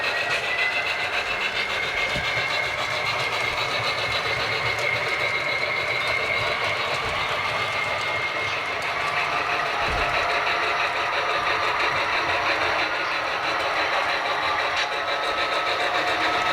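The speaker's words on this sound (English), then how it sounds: "Now you see the train traversing through San Leandro." An HO scale model train runs on a DCC club layout, giving a steady whirring motor hum with light rail clatter, continuous and close, with faint intermittent clicks and no talking.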